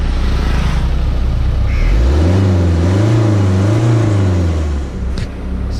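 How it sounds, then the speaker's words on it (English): A loud, close Toyota Corolla 2.0 diesel engine revs up with a rising, wavering growl, holding a rough pitch before easing off near the end; no one speaks. "did you hear that crazy wild diesel sound?"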